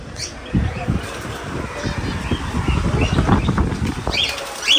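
A flock of birds flaps its wings in bursts of fluttering beats that rise and fall, with faint chirps and wind in the background, recorded nearby outdoors.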